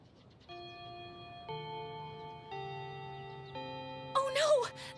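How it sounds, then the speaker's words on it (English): A school tardy bell rings as a series of sustained electronic chime tones stepping through several pitches, clear and steady, ending with a brief burst of voices. "Oh no! The tardy bell!"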